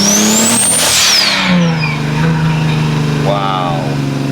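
A turbocharged BMW E30 engine with a T51R-modified exhaust revs up loudly with a rising whine, then settles into a deep rumbling exhaust idle, with speech mixed in underneath.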